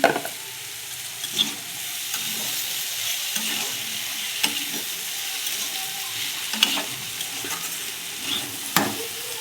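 Onions and potatoes frying in a kadai on a gas stove, a steady close sizzle with occasional stirring scrapes and clatters across the whole stretch.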